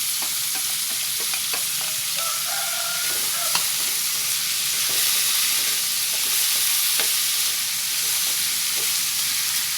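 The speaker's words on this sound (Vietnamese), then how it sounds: "bây giờ mình đã xào rồi mình sẽ cho củ sắn vào đây luôn" Vegetables stir-frying in a hot pan with jicama added for a vegetarian spring roll filling, a steady close sizzle with scraping and stirring clatter throughout.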